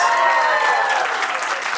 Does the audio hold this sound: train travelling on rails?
no